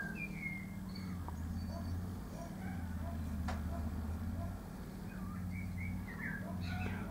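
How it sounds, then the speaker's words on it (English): A blackbird sings short, scattered phrases outdoors, fairly faint against a steady low hum. "Listen to the blackbird outside"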